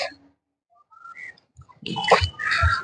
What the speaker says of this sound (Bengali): কোকিলের আওয়াজ